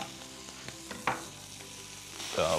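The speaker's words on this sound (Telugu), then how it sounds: "ఉల్లి వెల్లుల్లి రెండు వేసుకున్నాం కదా, దీని అలా ఫ్రై చేసుకున్నాం కొద్దిగా." Onion and garlic fry in a pan, a steady low sizzle broken by a few clicks and a sharper stirring scrape, swelling louder toward the end.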